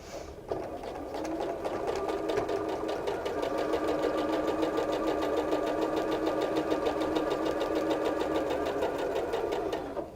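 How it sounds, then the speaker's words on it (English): A sewing machine stitches quilt pieces with dark thread at a true quarter-inch seam, its motor whirring in a fast, even mechanical chatter that runs steadily for about ten seconds, close and alone. "And we just sew."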